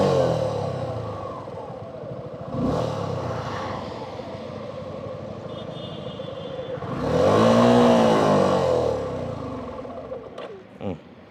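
A Suzuki V-Strom 250 SX motorcycle starts up and revs twice, with rising and falling engine bursts close by over a steady idle and brief clatter near the end.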